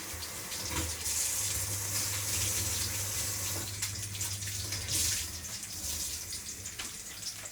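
A cloth is wetted and wiped under a running kitchen tap, with water gushing steadily and splashing in the sink, the flow shifting as the cloth moves through it.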